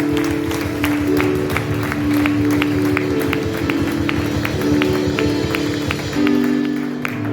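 A church congregation claps together during a Spanish-language service, with dense, rhythmic applause that holds steady and loud for over seven seconds. A low musical hum sits beneath it.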